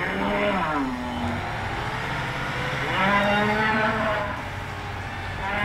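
Cattle low in the farming simulator Professional Farming Cattle and Crops near a stall, with two drawn-out moos rising and falling over a steady background hum.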